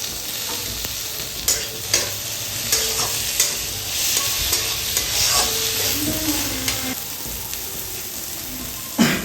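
Tomato pieces sizzle in a hot pan of egg fried rice ingredients while being stirred, with a steady frying hiss and several sharp scraping and clattering strokes of the utensil throughout.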